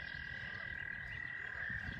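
A leopard frog croaks in a steady, low rumbling chorus outdoors at a watershed nature center in spring, beneath a constant high insect-like drone, faint and with no voices.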